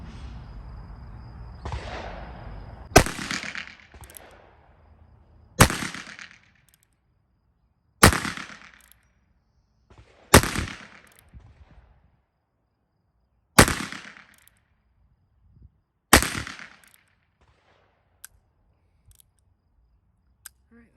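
Six sharp .22 shots ring out one at a time from a Heritage Rough Rider revolver, each loud crack spaced a few seconds apart with a brief echo fading before the next.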